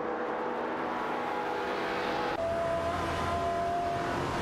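Race cars, among them an Aston Martin Vantage AMR, run in a racing video game, a steady loud engine drone whose tone shifts sharply halfway through as another car's note takes over.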